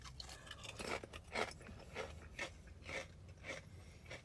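Someone chews crunchy Clancys sour cream and onion potato chips, Aldi's store brand, producing faint, close, irregular crunches in steady bites over a quiet background.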